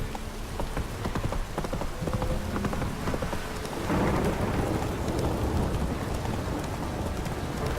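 Heavy rain in The Witcher 3: Wild Hunt pours down steadily, a dense hiss that swells louder about halfway through, with a few sharp crackles early on.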